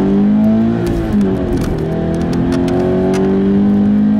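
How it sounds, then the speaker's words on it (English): A Scion FR-S / Subaru BRZ accelerates on a wet road with some wheel spin, its engine note rising steadily and loud throughout, close by inside the cabin. "Some wheel spin."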